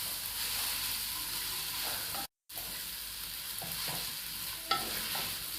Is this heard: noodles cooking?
yes